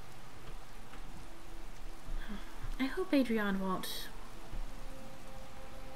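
Steady rain in Skyrim falling as a continuous soft hiss with pattering drops, heard throughout under a brief spoken remark from a man in the middle.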